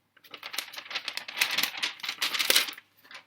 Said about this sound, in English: Paper can be really noisy.